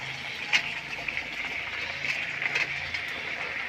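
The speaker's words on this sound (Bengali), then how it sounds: "তো এই যে সবজি সব ঢেলে দিয়ে দেবো এখন" Mixed vegetables tumble into a cooking pan over cooked-down spiced masala in a home kitchen, giving a steady close hiss and sizzle with a soft thud of pieces landing near the start.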